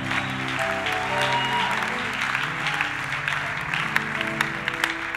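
Church congregation applauding steadily through a sustained wash of clapping, with organ or keyboard chords held underneath and a few louder claps standing out near the end.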